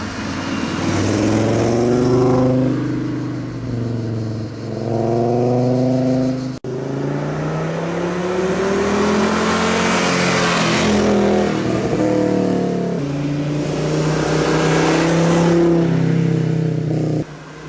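A car engine revs repeatedly on an Ardèche road trip, the car fitted with ABS, rising and falling in strong harmonic sweeps, loud and close, with several separate rev bursts and no talking.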